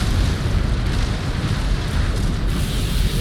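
A mech is destroyed and explodes in the game Mechwarrior 5 Clans, a loud, dense, sustained rumbling blast with crackling debris that roars steadily for a few seconds without letting up.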